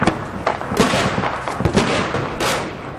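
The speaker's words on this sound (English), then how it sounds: "Mortars start to drop on the hillside." Mortar rounds drop on a hillside in Homs, Syria, heard as a loud, dense run of booming blasts and crackling bursts that follow one another in rapid succession.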